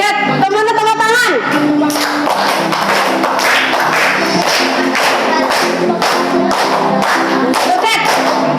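Children clap their hands together during a school class activity, producing a loud, dense stream of many overlapping claps, with voices singing and talking over it throughout.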